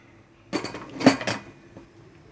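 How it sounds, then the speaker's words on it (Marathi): A metal lid clanks onto a pressure cooker in a home kitchen, holding taro-leaf curry with dal and peanuts, in a short burst of close metallic knocks and clatter with no talk. "आता गॅस कुकर बंद करते मी"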